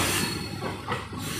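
A Howrah to Belur Math local train rounds a curve, its steady rolling rumble joined by a brief wheel squeal near the end of a short stretch, with no voices.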